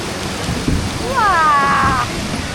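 Small waterfall in Takachiho gorge, Japan, steady rushing water heard up close, while a voice rises over it in a sliding exclamation.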